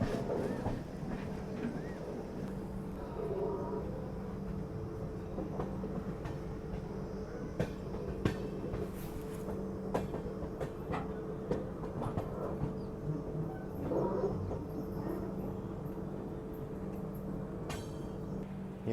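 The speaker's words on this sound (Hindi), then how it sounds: "और जैसे ही ट्रेन निकलती है धर्मावरम से, खूबसूरत सा कर्व लेते हुए एग्जिट करती है" The Kongu Express, heard from aboard as it leaves Dharmavaram on a curve, gives a steady low rumble with faint rhythmic wheel clacks throughout, continuous and moderately quiet.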